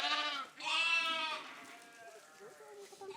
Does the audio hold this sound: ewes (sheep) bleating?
yes